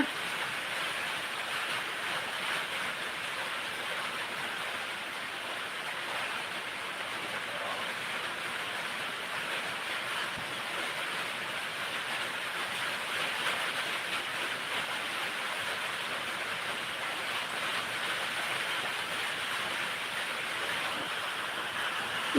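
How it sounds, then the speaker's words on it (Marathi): Rain falls outdoors in a steady, even hiss that keeps going at moderate level without a break. "आमच्याकडे इकडं पाऊस आहे"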